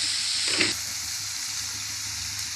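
Tomato and onions sauté in a pan for poori masala, making a steady, close sizzling hiss with a brief stirring scrape near the start.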